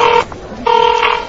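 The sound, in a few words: telephone dialing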